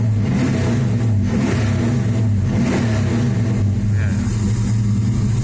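Chevy S10 with a 383 stroker engine and a choppy cam, running with a deep, loud, lumpy idle rumble throughout, with some light revving and people talking nearby.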